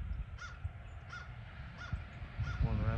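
Crows cawing outdoors, four evenly spaced single caws at moderate distance over a low rumbling background, followed by a brief harsher call at the end.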